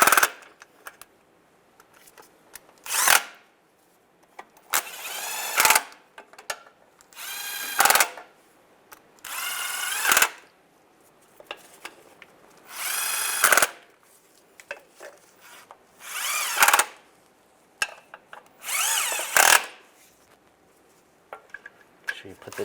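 Power tool snugging timing cover bolts on a Chevy Silverado, about nine short loud bursts of whirring and rattling separated by pauses, each bolt run up in turn.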